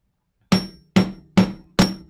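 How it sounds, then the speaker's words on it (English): A chasing hammer with a wide curved face strikes a metal moon pendant four times in an even rhythm, each tap sharp and close with a short ringing decay, no voices. "I'll get my chasing hammer, my nice chasing hammer with the wide curved edge, and I'll just tap along here a little bit"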